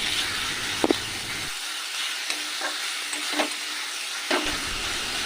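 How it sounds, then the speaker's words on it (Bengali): Ginger-garlic paste and green chilli paste fry in a pan with a steady, close broadband sizzle and a few soft scraping stir clicks; no one speaks. "এই আদা রসুনের গন্ধ যাওয়া পর্যন্ত কিছুক্ষণ ভেজে নিতে হবে।"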